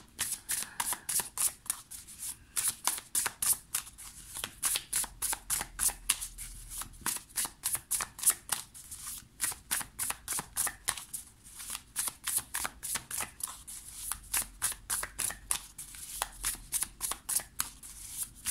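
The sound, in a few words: shuffling tarot cards for a nine-card draw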